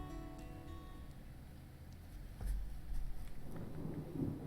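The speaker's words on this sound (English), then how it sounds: "Big black cumulonimbus clouds are in the sky. And that sound. Thunder snow is coming." Thunder rumbles in Deadly Premonition 2, quiet at first, then a deeper, louder roll builds in the second half with a faint rain-like hiss.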